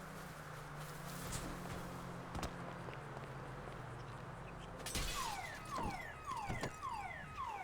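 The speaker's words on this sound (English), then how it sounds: "Why would you have a car alarm on a prairie?" In the video game GTA, a car alarm goes off out on a prairie, a repeating series of falling electronic whoops that starts midway and continues, mixed with footsteps and scattered thumps in the game.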